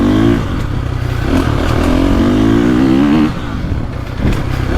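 A 450cc motocross dirt bike, a Honda CRF450R or KTM 450SXF, runs a wooded trail loop, its engine loud and close with a rising, revving drone, a brief throttle drop, then renewed pulling alongside clattering chassis noise.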